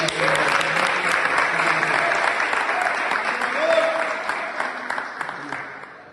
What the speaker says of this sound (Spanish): le ponemos a un aplauso, yo creo que sí